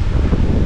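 Strong night wind buffets the microphone in a loud, continuous low roar that holds for under a second, with no voices.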